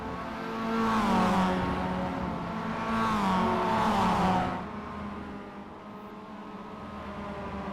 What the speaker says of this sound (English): As soon as the cars begin to pick up that draft, they begin to start battling all over again.